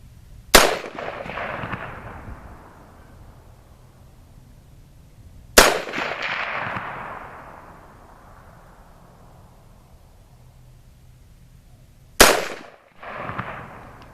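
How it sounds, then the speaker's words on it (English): Three loud, sharp rifle shots from a Bear Creek Arsenal 7.62x39 side charger ring out outdoors, spaced several seconds apart, each followed by a long echoing decay. "I think I'm just gonna do maybe 3-shot group on this one"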